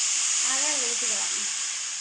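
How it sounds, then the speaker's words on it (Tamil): Melted palm sugar and jaggery syrup poured into a hot pan for a traditional sweet, giving a steady bright hiss and sizzle that holds throughout, with a voice speaking faintly beneath. "இப்போ நாட்டு சக்கரையும் வெல்லமும் கரைச்சி வச்சுருக்கோமா, அதை ஊற்றிக்கலாம்."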